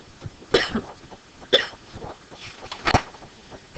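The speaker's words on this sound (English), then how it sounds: "sorry about my cough." Three short, sharp coughs spaced about a second apart, close and fairly loud, with no talk around them.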